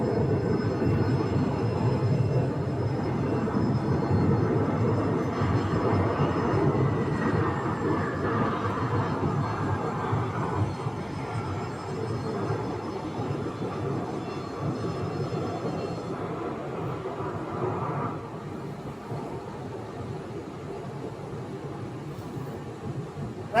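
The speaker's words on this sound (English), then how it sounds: "oh, that is UPS. Ah, it's a 767," A UPS Boeing 767 passes overhead at Phoenix airport, a loud broadband jet roar with a faint rising whine, swelling and holding before easing off and fading near the end.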